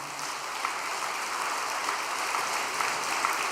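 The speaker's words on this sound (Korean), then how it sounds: "다시 한번 격려의 박수 부탁드리겠습니다." A congregation at an all-night prayer meeting applauds, giving a soft, even wash of many hands clapping at a distance, steady and unbroken from start to finish.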